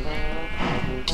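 A lost sheep in a Minecraft-style video game lets out a clear, nearby bleat, a short wavering cry, with game sounds around it.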